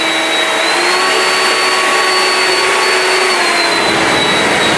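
Ryobi 36V cordless tool running on turbo mode, a loud and steady high-pitched whine and airflow roar held close for the whole stretch, with no talking.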